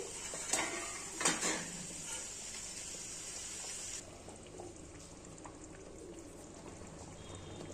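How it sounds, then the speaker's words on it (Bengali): A lid comes off a pot of katla fish kalia cooked with ground green pea paste: two faint metallic clinks, then a soft, low simmering hiss in a quiet kitchen. "এবার আমি ঢাকনাটা তুলে দিচ্ছি।"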